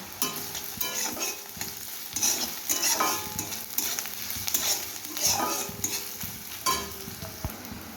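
Grated coconut drops into a pan with panch phoron for a vegetarian taro-leaf dish, giving soft frying sizzle and repeated spatula scrapes and stirs against the metal, moderately close, with no talking.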